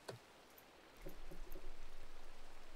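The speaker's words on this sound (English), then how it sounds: "Oh, it's raining." Steady rain falling in the Minecraft Skyfactory 4 modpack, a soft, even hiss that begins after a brief click and holds at a quiet level throughout, with no talking.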